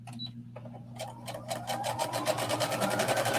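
A sewing machine runs straight stitches through knit fabric for a skater dress, starting with a few slow stitches and building into a fast, steady, close-up whir with no talking.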